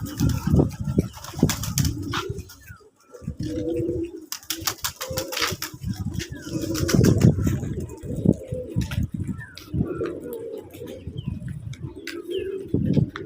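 Pigeons coo repeatedly in low, throaty phrases close by at a pigeon farm, with occasional chirps, wing flutters and faint voices mixed into the background.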